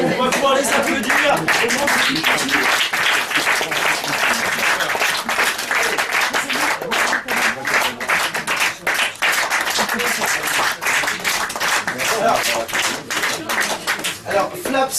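An audience at an improvisation show applauds arriving performers, loud sustained clapping throughout with some voices mixed in, settling into a rhythmic pulse toward the end.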